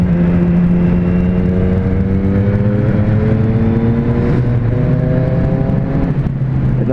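A Triumph Street Triple S 660 motorcycle in fourth gear gives a steady, loud, close engine drone whose pitch climbs slowly as it pulls, with a brief dip near the end and constant wind rush around it.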